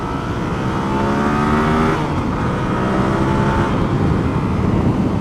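A Yamaha FZ-07 motorcycle with its airbox snorkel removed runs on a test ride, a loud continuous engine drone with rising and falling revs and wind rush close to the rider.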